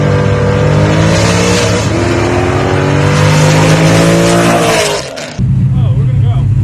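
A police Dodge Charger accelerating hard, its engine revving loud and close with a rising, layered roar that briefly cuts out before settling into a lower rumble, with people talking over it.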